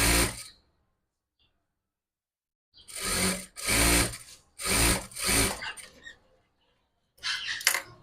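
A sewing machine stitches a hijab cap in several bursts, loud close rattling runs of a few seconds each separated by silent pauses, with no talking.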